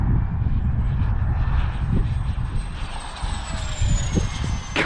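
3D printed EDF Fun Jet model aircraft with a ducted fan flying on its maiden flight, a steady high whine with a slowly shifting pitch over continuous outdoor rumble and wind.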